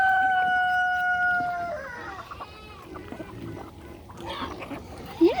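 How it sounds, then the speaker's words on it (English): Mixed flock of bantam, Polish and large chickens, with a rooster's long crow up front followed by scattered clucks and squawks from several birds close by in a farmyard. "Little tiny bantams, medium size Polish, large chickens, and some larger chickens."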